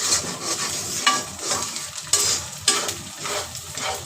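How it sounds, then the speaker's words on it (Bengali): Rice and ingredients frying and being stirred in a home kitchen pan for fried rice, with steady sizzling and several sharper scrapes of the spatula against the pan, close and continuous without talk. "এটা সুন্দর করে ভাজা হয়ে গিয়েছে।"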